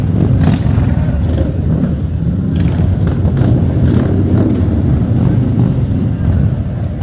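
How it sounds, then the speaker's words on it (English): Engines of a motorcycle club rumble loudly in a Christmas parade, a dense continuous low roar with rising bursts of revving, heavy with wind noise on the microphone. "Certainly they're roaring their engines."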